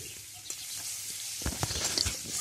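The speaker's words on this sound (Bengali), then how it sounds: "মাছ ভাজার তেলে আমি দিয়ে দিলাম হচ্ছে গোটা জিরের ফোড়ন, আর দিয়ে দিচ্ছি হচ্ছে পেঁয়াজ কুচি" Chopped onion and whole cumin seeds fry in oil left over from frying fish, a close, steady sizzle with a few stirring clatters in the second half and no talk.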